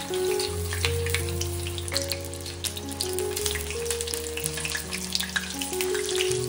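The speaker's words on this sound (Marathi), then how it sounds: "सर्व बाजूने आपल्याला हा पीस डीप फ्राय करून घ्यायचा आहे।" A piece of paneer deep-fries in hot oil in a home kitchen, a continuous soft bubbling sizzle under steady background music, with no talk.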